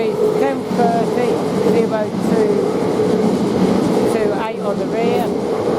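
London Northwestern train passing through Coventry station, a steady loud rumble and hum of rolling stock with squealing tones, continuous throughout with a voice talking over it.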